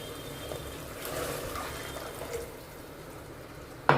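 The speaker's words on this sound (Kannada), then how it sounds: "ಈಗ ಇನ್ನೂ ಸ್ವಲ್ಪ ನೀರು ಹಾಕ್ತೀನಿ" Water pours into a horse gram cooking mixture, a soft, close liquid trickle that runs for a few seconds before a sharp knock right at the end; no one speaks.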